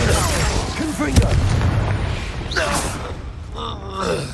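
A Confringo spell detonates in Hogwarts Legacy with a deep booming blast and rumbling debris, followed by crackling magical effects in the middle of a fight, with a voice shouting over the noise.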